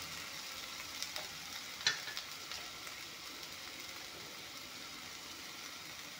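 Onion and ginger fry in a pan after a splash of hot water is added, giving a soft, continuous sizzle with one brief clatter partway through.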